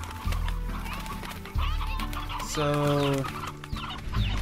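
Video game Slime Rancher elder rooster clucking in a short burst of bird calls midway, close and fairly clear over game background sounds, with someone briefly speaking at the start.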